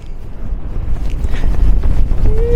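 Strong wind on a cliff top above the ocean on the Nullarbor roars and buffets the microphone, a rough low rumble that gusts louder toward the end, with no voices.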